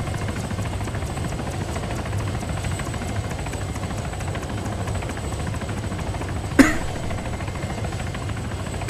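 A helicopter hovers overhead in the Arma 3 Altis Life game, a steady even rotor drone holding level throughout with one brief sharp knock near the end.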